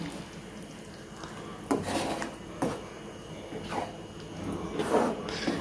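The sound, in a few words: stirring kuzhambu in a pot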